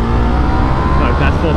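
A Yamaha MT-03 motorcycle fitted with an R6 throttle tube roars at full throttle, a loud, close, sustained engine and wind rush that holds steady for the whole short burst.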